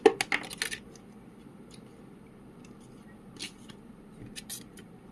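Oracle card decks handled and shuffled close by, a quick cluster of crisp clicks and flutters at the start, then scattered softer card taps and riffles amid quiet.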